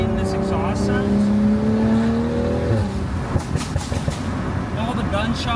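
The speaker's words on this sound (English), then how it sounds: "All the gunshots and backfires." A catless BMW M340i exhaust with an AliExpress valvetronic drops off a high rev, then spits a burst of loud, irregular pops and bangs like gunshots over a lumpy idle burble.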